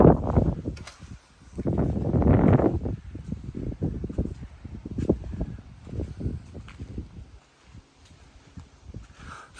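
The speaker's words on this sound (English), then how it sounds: "You're probably not going to be able to hear a thing I say because it's bloody windy." Strong wind buffets the microphone outdoors in heavy, irregular low rumbling gusts, with brief lulls between them.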